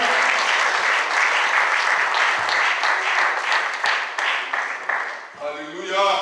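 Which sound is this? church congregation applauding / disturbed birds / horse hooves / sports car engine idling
church congregation applauding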